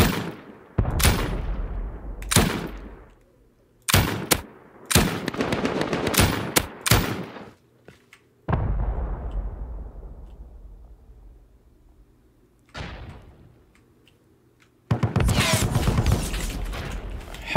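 Assault rifle gunfire in a video game raid, loud sharp bursts broken by quiet gaps and fading echoes, with one long final burst at the end.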